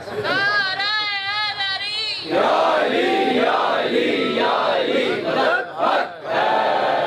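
Crowd at a majlis in Lahore chanting a religious slogan in unison, loud and close, following a single voice calling out, the massed voices rising and falling in rhythmic waves.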